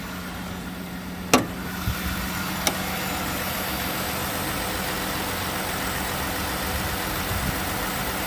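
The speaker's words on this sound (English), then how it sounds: "Let's get a listen to this engine" A 2015 Jeep Grand Cherokee Summit 4WD engine idles steadily at close range, a healthy low even rumble with a couple of small clicks near the start and no voices.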